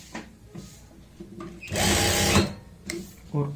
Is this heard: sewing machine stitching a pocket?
yes